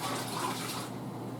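Hot water poured from a kettle or pot into glass canning jars while making jalapeno jelly, a steady close splashing and filling rush that thins out near the end, with no talking.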